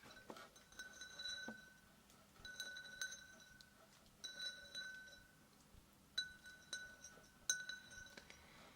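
A Doom themed drinking glass with a clear-to-red gradient clinks in a series of bright, ringing taps, grouped in short bursts with quiet pauses between, close and fairly soft.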